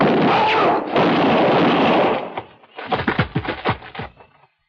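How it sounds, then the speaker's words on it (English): Gunfire in an old-time radio detective drama, a long harsh roaring blast followed after a short gap by a rapid cluster of sharp cracking shots that fade to silence. "now I'm going to kill you with your own gun"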